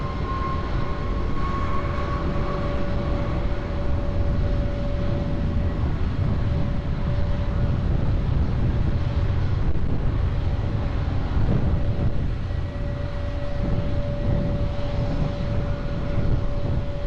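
A passenger jet takes off from the runway at Lisbon Airport, its engines producing a loud, continuous broadband roar that holds steady throughout, with a faint tonal whine running underneath.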